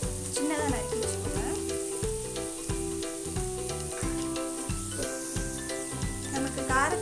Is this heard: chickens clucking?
no